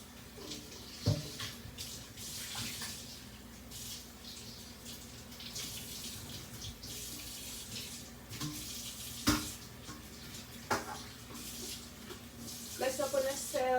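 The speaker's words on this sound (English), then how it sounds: "So I'm just gonna strain this off again." Soursop juice strained through a strainer in a home kitchen, giving a steady wet pour and trickle with scattered clinks and taps, fairly faint, while a person talks now and then.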